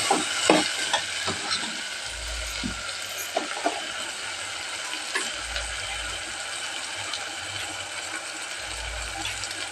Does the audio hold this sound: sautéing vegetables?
yes